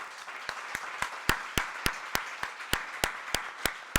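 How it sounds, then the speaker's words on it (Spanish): An audience at a round-table discussion on partisan appropriation of public space applauds Joaquín, a dozen loud, sharp, evenly spaced claps ringing out in a steady rhythm for about four seconds. "pido un aplauso para Joaquín"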